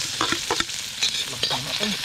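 Garlic and onion fry in a hot pan with a broad, steady sizzle, broken by several short scraping stirs spread across the whole moment.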